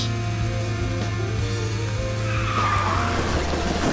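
A kart drifting in the KartRider video game gives a loud, sustained tire-skid screech over a steady engine drone, the squeal rising toward the end.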